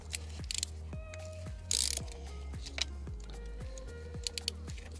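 Ratchet wrench unscrewing glow plugs on a Fiat or Alfa Romeo 159/Brera JTD diesel engine, giving close, repeated clicking bursts of the pawl with short pauses and a low steady hum beneath.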